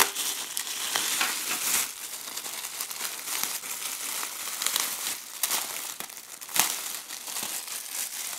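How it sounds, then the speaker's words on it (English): A plastic bag wrapped around a new K&F Concept multifunctional camera backpack is pulled and opened, giving close, continuous crinkling and rustling with sharper crackles throughout, and no talking. "let's go ahead and open up the plastic"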